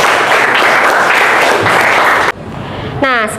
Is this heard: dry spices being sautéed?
no